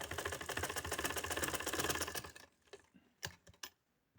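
A sewing machine stitching a neckline, a fast steady mechanical rattle for about two seconds that stops abruptly, followed by a few sparse clicks and taps, close and quiet, with no talk.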